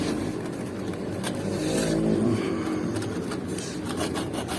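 Steady rasping scrape of folded fine sandpaper rubbing back and forth between the metal electrical contacts of a rice cooker that won't heat, close and continuous, with a low hum underneath and no talking.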